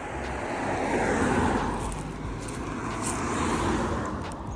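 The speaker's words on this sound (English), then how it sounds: "There's so many cars on the road right now" Many cars pass on a busy road, forming a continuous broad roar of traffic that swells slightly and never lets up, with no voices.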